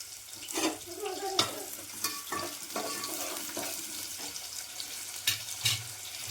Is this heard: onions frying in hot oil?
yes